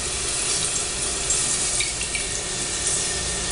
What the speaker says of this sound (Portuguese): Eu vou colocar azeite.